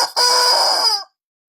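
A novelty toy chicken lets out one loud, close, strained squawk lasting about a second, shrill and tonal like a strangled crow, then cuts off into silence.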